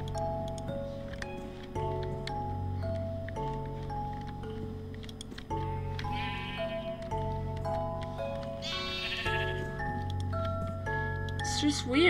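Glow-in-the-dark sheep in the video game Minecraft bleating a few times over sustained game music, the bleats brief and mid-level amid a busy soundtrack.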